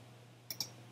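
Two quick, close computer mouse clicks while working in GIMP, sharp and light, sounding a fraction of a second apart against quiet room noise.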